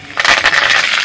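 Curry leaves hit hot oil with a sudden loud burst of crackling sizzle that holds strong for about a second.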